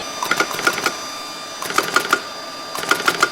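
A battery spot welding machine joins nickel bus bars to cells in three quick groups of sharp snapping pulses, several rapid zaps per group, riding over a steady electrical hum with short pauses between groups.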